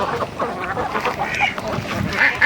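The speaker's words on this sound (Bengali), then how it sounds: "হাঁসগুলি দেখেন কত সুন্দর গোসল করতেছে" Ducks bathing in water, quacking repeatedly in short nasal bursts over light splashing, fairly close and lively with no clear speech.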